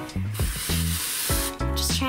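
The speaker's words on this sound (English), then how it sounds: "She's trying to spray us." Paint spray hissing onto a doll in pink color, in several bursts separated by short gaps, close and loud, with voices talking between the sprays.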